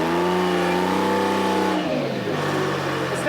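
Engine of an abandoned Michigan loader revving hard and loud as its tires spin, a steady close roar whose pitch sags partway through, with no talking.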